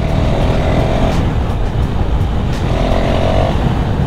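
A KTM Duke 390 motorcycle ridden through a local area, its engine note loud and steady under heavy wind rumble, with a faint tone rising and falling as the rider holds speed.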